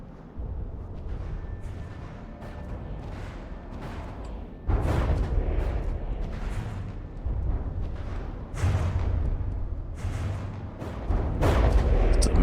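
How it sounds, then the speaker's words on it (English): A missile volley in From the Depths: a continuous rumbling barrage of repeated booms and bursts, with several heavier impacts hitting in clusters and growing louder toward the end. "It's a missile volley."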